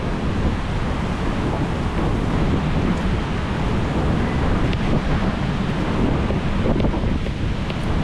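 Sea surf washes onto the shore at a river mouth in a continuous low roar, with heavy wind buffeting the microphone throughout.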